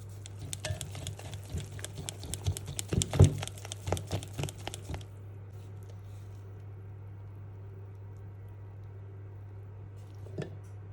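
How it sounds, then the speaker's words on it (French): Batter with a pinch of salt whisked by hand with a manual whisk, a rapid close clatter of wire against the bowl for several seconds that then stops, leaving a low steady hum. "bien mélanger le tout à l'aide d'un fouet manuel afin d'éviter l'apparition de grumeaux"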